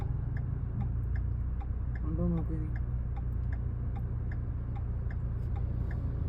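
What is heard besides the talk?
Ford EcoSport right turn indicator ticking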